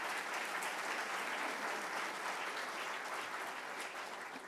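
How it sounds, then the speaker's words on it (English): An audience claps steadily and evenly for several seconds, a dense, moderately loud wash of applause with no break. "I was wondering when I was going to get my first applause."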